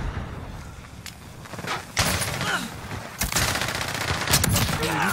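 Rapid shotgun blasts and bursts of gunfire ring out in a Call of Duty match, with several sharp loud shots spaced over a few seconds against a busy game background.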